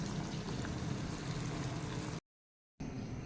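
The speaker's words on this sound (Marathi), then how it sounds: "तेल छान तापलेलं आहे त्याच्यामध्ये आता आपण हा एक एक कोफ्ता सोडूया आणि छान असे हे कोफ्ते सगळे आपण तळून घेऊयात" Jackfruit koftas fry in hot oil with a steady, soft sizzling and bubbling, faint and continuous, cutting out briefly before resuming.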